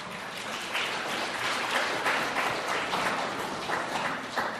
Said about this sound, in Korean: 여러분 다시 한번 사랑과 기도의 박수 보내주시기 바랍니다